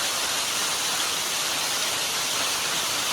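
Steady broadband rush of a waterfall near Buddadiguda village, a continuous dense roar filling the whole clip with no voices.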